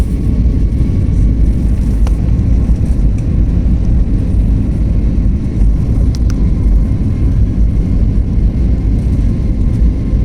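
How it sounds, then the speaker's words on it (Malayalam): Inside an airliner cabin on approach to land at Calicut (Karipur) airport, a loud, steady low rumble and engine drone hold constant throughout, with no voices. "അങ്ങനെ കാലിക്കട്ട് എയർപോർട്ടിൽ ലാൻഡ് ചെയ്യാനുള്ള തയ്യാറെടുപ്പിലാണ്"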